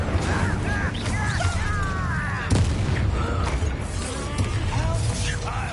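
An Incendio fire spell is cast in Hogwarts Legacy on PS5 with a whooshing burst and a sharp thump amid swishing combat effects, while voices speak over the fight.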